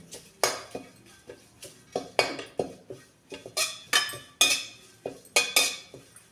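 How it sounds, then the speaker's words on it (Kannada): Curry leaves are dry-roasted in a pan for huli sambar powder, with a close series of sharp metallic clinks and scrapes from stirring, about two a second, and no talking. "ಕರಿಬೇವನ್ನು ಚೆನ್ನಾಗಿ ಸ್ವಲ್ಪ ರೋಸ್ಟ್ ಆಗಂಗೆ ಹುರ್ಕೋಬೇಕು"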